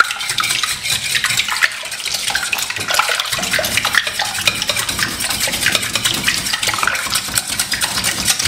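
Eggs being stirred briskly in a bowl for French pancakes, a continuous fast clatter and swish of the utensil against the bowl, close and steady throughout with no talking.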